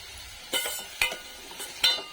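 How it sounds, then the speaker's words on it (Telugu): Thinly sliced onions land in hot oil in a pan, giving a faint sizzle broken by three or four sharp stirring scrapes and clinks against the pan. "ఆయిల్ వేడయ్యాక సన్నగా కట్ చేసుకున్న ఉల్లిగడ్డలు వేసుకుందాం."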